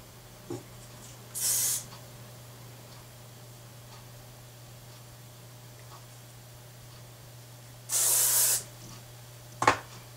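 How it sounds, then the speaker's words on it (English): Two short bursts of aerosol hairspray onto styled hair, each about half a second, hissing over a quiet room with a steady low hum and a couple of small clicks. "And then you can just spray that in place."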